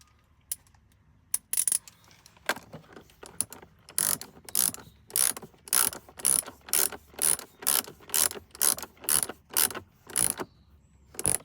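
A ratchet tightens the terminal nuts on a Fogstar 12 volt 628 amp-hour lithium battery in a camper van, giving close, crisp clicking in a steady rhythm of short repeated bursts after a few scattered clicks.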